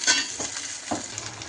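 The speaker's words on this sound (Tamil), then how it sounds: "தக்காளி போட்டுக்கலாங்க. வதக்கிக்கலாங்க." Tomatoes and curry leaves sautéed in a pan for egg curry, a brief close sizzle with a few quick scraping stirs, no voices.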